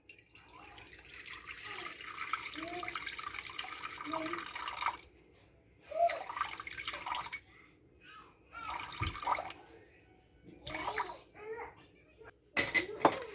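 Water trickles and splashes in short pours into a bowl with pauses between, fairly quiet and close, with some faint voices in the background.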